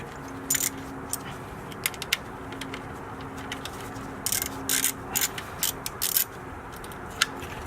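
A socket wrench ratchets an alternator nut tight on a 2005–2009 Ford Mustang GT, giving irregular bursts of close, sharp clicking separated by short pauses.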